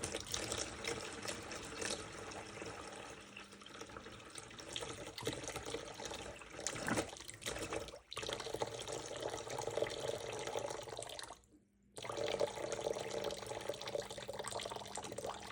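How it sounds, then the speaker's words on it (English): Hot water tap trickling and splashing steadily from a tank-fed Y-plan system, with continuous running water throughout and one brief pause near the end. "The water runs like that downstairs for a little bit and then eventually just stops."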